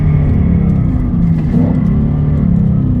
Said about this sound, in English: You start putting some downshifts in.